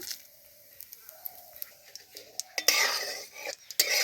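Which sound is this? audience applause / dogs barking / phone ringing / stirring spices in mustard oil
stirring spices in mustard oil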